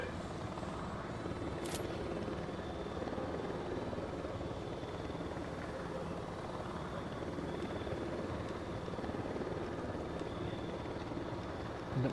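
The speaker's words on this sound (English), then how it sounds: "Target acquired. Engaging chopper." A helicopter flying in the tactical shooter Ghost Recon Wildlands, its rotor roar steady and continuous throughout, loud and close, with no one talking over it.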